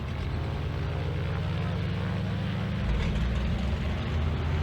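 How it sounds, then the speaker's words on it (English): A Grumman Goose (JRF-6B) radial aircraft engine cranks and catches in Microsoft Flight Simulator 2020, a steady low rhythmic drone that deepens and grows louder near the end as the engine comes up, heard alone. "let you hear this beautiful engine sound"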